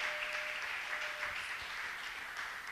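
Church congregation applauding to acclaim the Lord during a French-language worship service: steady, dense clapping at a constant level throughout, with a faint sustained tone in the first half.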